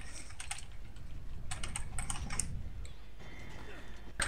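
Computer keyboard keys tapped in quick irregular bursts during a Resident Evil 5 session, close and crisp, with short pauses between clusters and faint game sound underneath.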